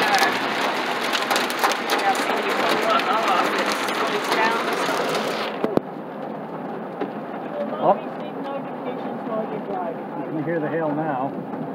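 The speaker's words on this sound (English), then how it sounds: "Oh wow, look at the hail now." Hail and heavy rain pounding down during a June thunderstorm in Newport, New Hampshire: a loud dense roar that abruptly drops to a softer patter, with voices talking over it.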